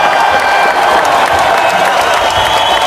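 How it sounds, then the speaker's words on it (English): Loud, dense school assembly applause for a pupil's achievement, steady clapping from a crowd filling the whole moment. "Let's finish with a big round of applause for Will"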